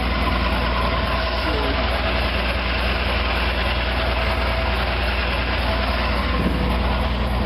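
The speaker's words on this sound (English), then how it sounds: "Kind of watching to see if this thing's going to get hot sitting here idling all that time." A 1983 Jeep CJ7 used for snow plowing idles steadily, a constant low engine rumble held close and loud throughout, with a voice talking over it.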